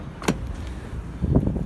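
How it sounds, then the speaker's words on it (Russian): A Lada Granta car door is shut, giving a short muffled thud followed by a softer clunk and rattle of the latch a second later, close by and quiet. "Сейчас как тут дверь будет закрываться?"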